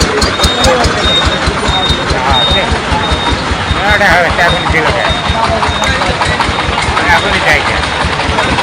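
A truck's engine idles with a low, steady rumble at a busy cattle market, with continuous crowd chatter and voices over it throughout.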